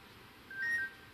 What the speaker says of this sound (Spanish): Mi teléfono suena así.